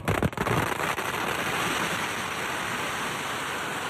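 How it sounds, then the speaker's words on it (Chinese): Firecrackers laid across a dragon dance stage and on the dragon's head go off. A few sharp bangs open into a dense, continuous crackling roar that stays loud throughout. "鞭炮声此起彼落，冒出橘红色的火光"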